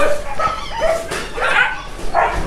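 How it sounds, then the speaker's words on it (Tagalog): Dogs at a kennel keeping large breeds bark, yip and whine in a loud, close burst of several overlapping calls with short gaps between them, with no voices over them. "Napakadami niya aso dito."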